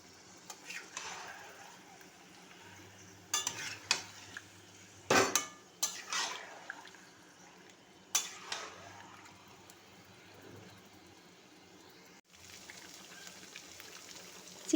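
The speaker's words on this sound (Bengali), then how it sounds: "এবার চিকেনটা কিছুক্ষণ নাড়াচাড়া করে নিতে হবে।" A utensil stirring chicken pieces in a pan for Kashmiri chicken masala, giving quiet, scattered scrapes and metallic clinks in irregular bursts over a faint background sizzle, with no speech.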